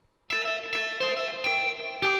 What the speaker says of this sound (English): Well, a lot of reverb.